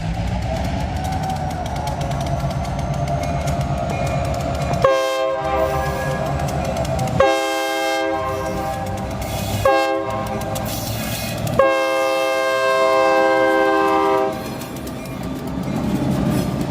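Freight train rolling past with ELS 1221 and 502 near Pembine, Wisconsin, its horn blasting four times in long and short calls over steady rumble and wheel clatter, loud and close, no voices.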